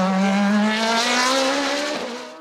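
An Osella PA30 V8 racing prototype screams at high revs close by during a hillclimb at Dunières, France, then the pitch dips briefly as it shifts and the sound begins to fade.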